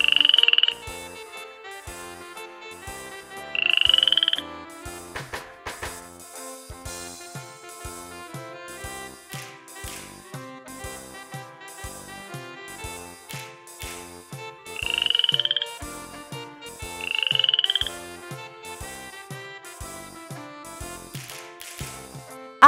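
A frog croaks in four separate bright, rasping bursts spread across the passage, each clear and close, set over a steady rhythmic music track.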